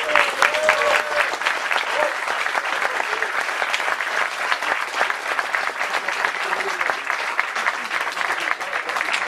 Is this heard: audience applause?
yes